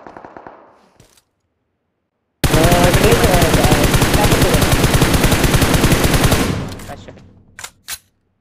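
Automatic gunfire in PUBG Mobile arrives after a brief stretch of quiet as a loud, rapid burst of shots lasting about four seconds before tapering off. A couple of sharp single shots follow, with faint voices before the burst.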